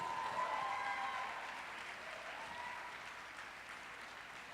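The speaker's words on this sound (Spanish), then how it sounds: "Dale un fuerte aplauso a Él, aleluya." A church congregation applauding at a Spanish-language service: a steady, diffuse wash of many hands clapping, heard from a distance and gradually easing off, with no speech over it.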